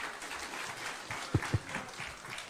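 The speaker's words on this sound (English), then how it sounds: "Another round of applause for the principals, please" A crowd applauds in a dense, steady patter of clapping heard from a distance, with a couple of louder thumps partway through.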